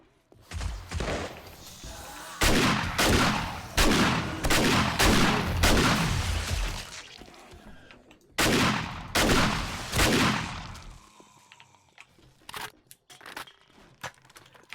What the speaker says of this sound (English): I shoot them until they're dead